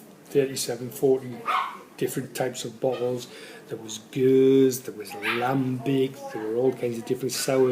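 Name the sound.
dogs barking and whimpering in background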